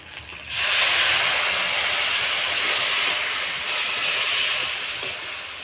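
Water splashed into a hot pan of fried cumin paste and turmeric for a rustic fish curry with potato and gourd stems, erupting in a sudden loud, steady hiss that stays strong and slowly eases.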